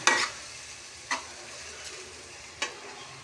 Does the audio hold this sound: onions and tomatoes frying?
yes